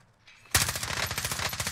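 Rapid automatic gunfire in the video game Call of Duty Modern Warfare Warzone bursts in after a short quiet lead-in, a loud, steady stream of evenly spaced shots.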